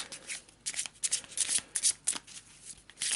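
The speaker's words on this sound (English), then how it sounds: "Quick shuffle," A treasure card deck from the board game Perdition's Mouth: Abyssal Rift is given a quick hand shuffle, a close, soft run of rapid papery riffling and flicking bursts at a low level.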